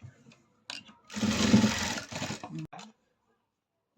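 A sewing machine stitches lace onto a curved neckline in one steady two-second run, close and clear, with brief bits of speech just before and after.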